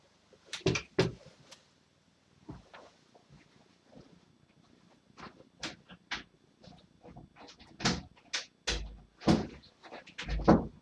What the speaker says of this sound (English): Gotta shut the door now.